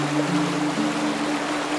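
A waterfall stream rushes in a steady, continuous wash of water noise with a faint low hum beneath, no voices over it.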